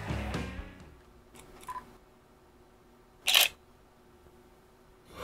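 A Nikon D5200 DSLR fires its shutter once, a sharp, crisp mechanical clack standing out against near silence, preceded by a few faint handling clicks.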